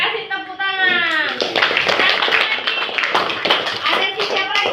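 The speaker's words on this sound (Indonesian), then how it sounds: "kasih tepuk tangan" Group of students in a classroom clapping hands together, rapid scattered claps after a brief voice at the start, continuing unevenly to the end.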